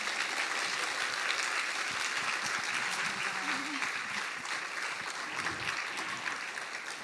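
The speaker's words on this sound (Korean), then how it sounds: "정말 열렬한 뜨거운 환호의 박수를 우리 목사님께 드리겠습니다" Congregation at a Wednesday morning women's church service giving warm, sustained applause as a pastor comes up, a thick continuous clapping throughout with voices faintly mixed in.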